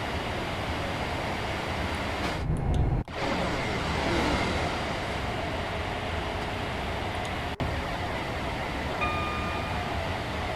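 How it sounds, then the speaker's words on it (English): Overground train passing in the Train Sim World 5 game on the Euston to Milton Keynes line, a continuous loud rushing rumble from the cab of a Class 390, broken by two brief sharp dropouts. "Oh look, that was another overground train."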